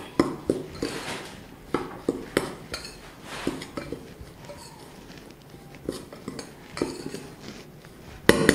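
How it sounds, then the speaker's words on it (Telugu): Fried sweet corn being tossed with chili powder and salt, a metal spoon clinking and scraping against the pan in a run of sharp taps, close and moderately loud with no talking. "ఇప్పుడు ఇందులో కొద్దిగా కారం వేసుకుందాం కాస్త ఉప్పు వేసుకుందాం దీన్ని బాగా కలుపుకుందాం"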